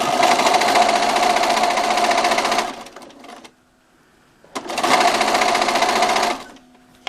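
A sewing machine stitches binding onto a quilt in two loud, continuous bursts of rapid mechanical whirring and needle clatter, close up, separated by a short pause.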